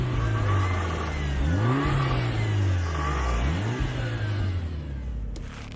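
An Evo 4 engine in the Initial D racing game revs hard, rising in pitch through two quick gear shifts with brief dips between, loud and close, fading slightly at the end, with no voices.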